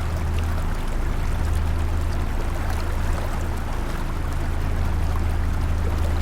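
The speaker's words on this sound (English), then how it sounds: "you'll start hearing the sound of the waterfall somewhere nearby." Water from Hogenakkal waterfall rushes in a steady, loud, continuous roar, heard from a coracle on the river, with a low engine-like hum underneath and no talk.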